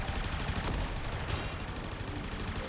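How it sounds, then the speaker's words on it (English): Video game gunfire in Warframe: dense, sustained bursts of rapid shots blend into a loud, noisy wash of combat sound with no speech. "I say that and immediately start getting gunned down."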